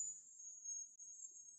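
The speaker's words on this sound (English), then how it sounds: "I cannot shut the cicadas off" Cicadas droning outdoors in a steady, high, shrill buzz that holds continuously with only one brief dip, fairly faint and alone with no talk.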